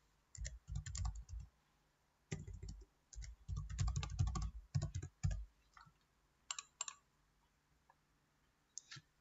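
Close, quiet clatter of a computer keyboard as a Microsoft account name and password are typed in, coming in several quick bursts of keystrokes separated by short pauses, with no one speaking.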